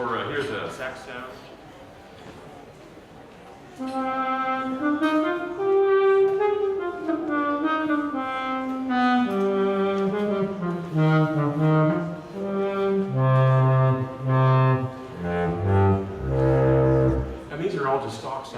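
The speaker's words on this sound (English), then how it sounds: "Or here's a sax sound." Saxophone patch from the Logic Pro X stock sounds playing a legato melody line, loud and close. Rising and falling notes with chordal backing enter after a quieter opening.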